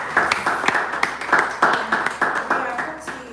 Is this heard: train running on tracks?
no